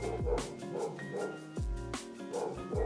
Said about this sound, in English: That dog that sounds like a giant monster is half wiener dog.